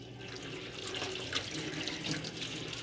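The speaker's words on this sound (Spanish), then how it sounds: "retiramos el agua del arroz y lo vamos a enjuagar con un chorrito de agua" A thin stream of tap water runs steadily over rice being rinsed, a continuous soft splashing and trickling close by, with no talk.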